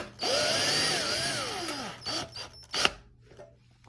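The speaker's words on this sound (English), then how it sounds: "You're going to take short screws and you're going to run them right through there and permanently mount this wheel onto this" Power drill driving short screws through a rock tumbler's mounting wheel into the motor lid: a close, loud, steady motor whine with pitch that bends as the screw bites, followed by a few short bursts and a final clunk.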